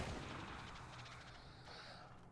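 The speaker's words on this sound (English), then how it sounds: "I love the little foomp that the grenade launcher makes." Grenade launcher shots and grenade blasts in a video game: a dense rumbling burst of explosions, loud at first and then slowly fading, with a brief higher tone near the end.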